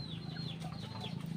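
Pet chickens cluck softly in a short, faint burst of low, close calls with no talk.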